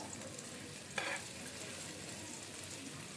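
Green chilies and oil sizzle in a pan while noodles are being prepared, a soft, steady frying hiss with a brief louder burst of spatter near the start.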